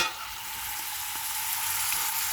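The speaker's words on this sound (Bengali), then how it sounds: "এই যে মাছটা কষাইতেছি" Hilsa fish sautéing in a pan with oil, a steady close hiss of frying running without a break and no talk.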